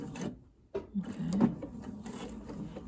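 A sewing machine stitches a welt pocket, running in short bursts of a few stitches forward and back with a close mechanical whir and clatter, and no talking over it.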